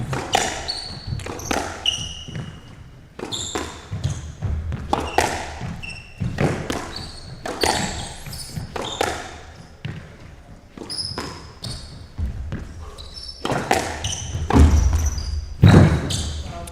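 Rapid squash volley rally between Juan Vargas and Matias Knudsen, the ball cracking sharply off rackets and walls in a quick, steady rhythm of many hits, with squeaks and court thuds echoing in an indoor arena.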